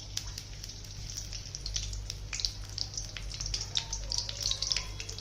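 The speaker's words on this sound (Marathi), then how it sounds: "लसूण टाकून घेते त्याच्यात" Garlic dropped into about two spoonfuls of hot oil for a Maharashtrian methi vegetable dish, giving a close, crackling sizzle with sharp pops and spatters scattered over a steady hiss, no voices.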